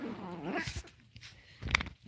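Two small Chihuahuas growl and squabble in rough play, a busy stretch of snarling and whimpering yips close by, with a sharp yelp near the end.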